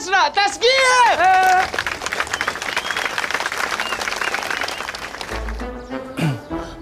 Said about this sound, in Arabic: تشجيع